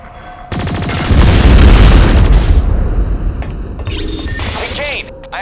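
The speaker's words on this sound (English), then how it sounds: "Blast these containers to get them out of your way." Containers are blasted apart in the PS2 game BlowOut, producing a loud explosion with a heavy boom that settles into a long, crashing rumble, followed by scattered debris and electronic effects.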